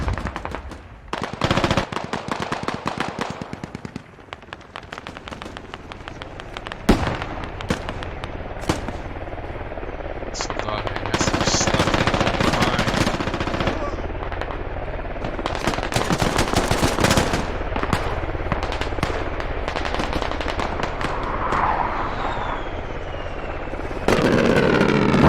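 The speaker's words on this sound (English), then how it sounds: "There's an airstrike." Squad video game combat: loud, near-continuous machine-gun bursts and heavy gunfire crackle through an airstrike, with sharp impacts and explosions layered throughout.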